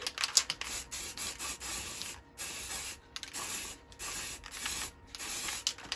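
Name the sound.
aerosol spray can spraying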